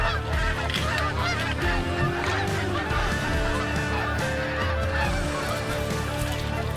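Resident Canada geese honking loudly and continuously, many calls overlapping in a dense flock chorus close by, with no talk.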